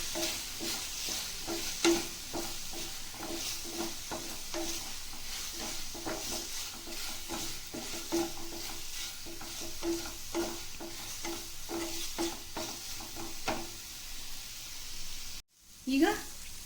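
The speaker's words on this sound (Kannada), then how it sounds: "ಇದನ್ನು ಚೆನ್ನಾಗಿ ಮಿಕ್ಸ್ ಮಾಡ್ಕೊಳ್ಳಿ." A chilli paneer mixture is stirred in a pan with regular scraping strokes over a soft sizzle, ending in a brief clatter near the end while a voice talks over it.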